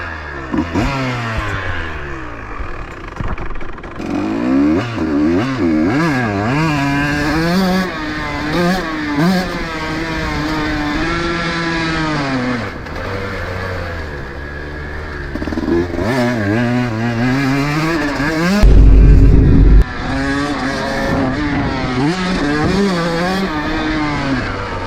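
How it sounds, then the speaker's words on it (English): A two-stroke motocross bike on a backyard track revs hard and loud, its engine whining up and down through repeated throttle blips and gear changes, close by and continuous, with a heavy thump near the end. "I'm bringing the two-stroke"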